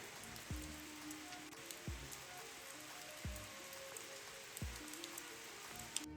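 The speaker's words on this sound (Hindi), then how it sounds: "वहाँ पे बारिश हो रही है, इधर भी बारिश हो रही है" Rain falls in the Himachal mountains as a faint, steady patter, broken by a few soft low thuds spaced about a second apart.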